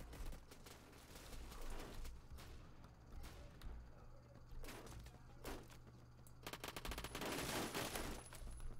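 Faint rapid bursts of automatic gunfire echo through a Phantom Forces match on the Dust 2 map, with scattered single shots and a voice talking over the game sounds.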